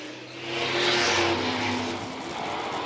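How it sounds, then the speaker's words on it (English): Vintage race cars battling in a pack at the Southern Vintage Nationals on a racetrack in Dillon, South Carolina, their engines a steady loud roar that swells and eases slightly as the field passes. "Great racing for those cars as they battle off of turn 4, back around the pack."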